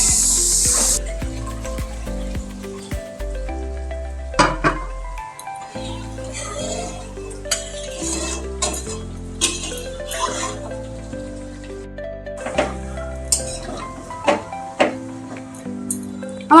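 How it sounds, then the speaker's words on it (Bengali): A spatula stirs and scrapes spice masala for a prawn and elephant foot yam dish in a kadai. Repeated close scraping strokes come at an irregular rhythm over background music. "আরও কিছুক্ষণ আমি একটু কষিয়ে নিচ্ছি"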